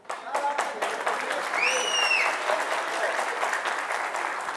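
Applause from an audience at a comedy show, dense and steady throughout with a couple of brief whistles near the middle, no pauses.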